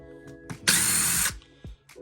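A power drill backs screws out of a P-Town subby casting mold, one short loud whirring burst of about half a second, with quiet handling clicks before and after.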